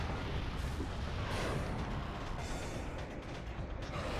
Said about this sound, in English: As we watch the frigate Orpheon explode.